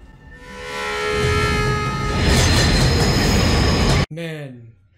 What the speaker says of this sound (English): the transition there to the subway line